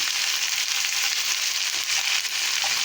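Vegetables frying in a pan for a potato and tomato curry, with a steady, dense sizzle up close and light stirring scrapes running beneath it.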